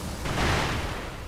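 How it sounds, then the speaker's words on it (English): A firecracker thrown in Sekiro: Shadows Die Twice gives a single dull, broad burst that swells and lingers briefly as a noisy rumble, with no talk over it. "Try out the firecracker thing."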